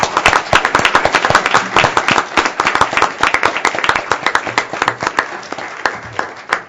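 Round of applause at a government commission meeting honoring a staff member, loud dense clapping from a room of people with sharp individual claps standing out, continuing steadily throughout.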